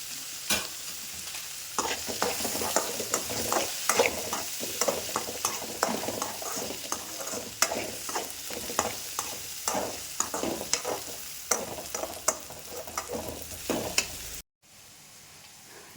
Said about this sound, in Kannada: ನೋಡಿ ಈಗ ಇದು ಕೂಡ ಫ್ರೈ ಆಗಿದೆ